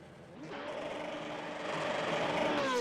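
A W12 race car engine at a standing start, heard as a faint, steady engine drone that builds slightly in loudness, with a thin rising whine near the end and crowd ambience around it.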